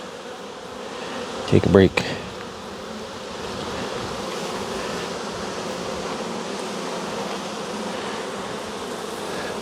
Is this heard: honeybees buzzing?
yes